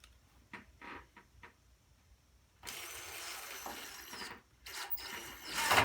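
A screw driven into a wood decking board with a power driver: a few short pulses of the driver first, then a long steady whir of the screw going in, close and fairly loud, followed by another burst.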